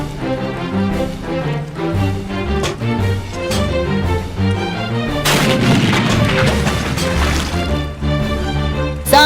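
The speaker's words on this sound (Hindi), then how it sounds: "चला तोप।" A cannon fires once at a Ganpati immersion celebration, a single heavy burst with a rumbling wash partway through, over loud ongoing music.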